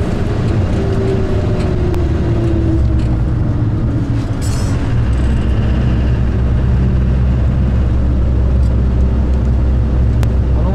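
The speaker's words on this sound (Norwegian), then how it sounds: "Ole Petter kjører forbi bussen." A car overtaking a bus on a school-trip road near Stryn, heard from inside as a loud steady engine and road rumble with a brief rising whine, continuous throughout.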